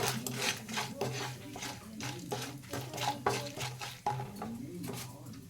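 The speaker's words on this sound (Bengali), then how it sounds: "ভালো করে মিশিয়ে নেব।" Spiced potato filling for dosa, seasoned with turmeric, salt and coriander powder, stirred in a pan with rhythmic utensil scrapes roughly twice a second, close and moderately loud, with no talk.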